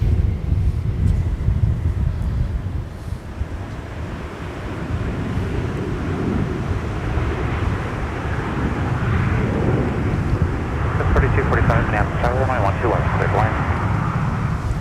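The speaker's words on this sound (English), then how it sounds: "we have another Sun Country arrival in the fabulous Tide Pod livery" A Sun Country Boeing 737-800 in Tide Pod livery arrives at Minneapolis–St. Paul Airport, a steady broad jet roar mixed with wind noise, carrying on throughout with a voice talking over it.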